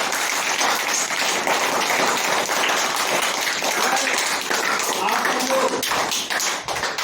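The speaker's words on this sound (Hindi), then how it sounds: "ताली बजाइए।" A street play audience applauding loudly, fast dense clapping from many hands close by that keeps going without a break.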